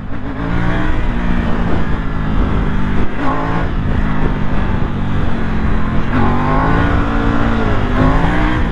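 A loud Triumph Tiger 900 motorcycle engine revs steadily and strains continuously throughout, with rising and falling pitch as it climbs, close and unbroken.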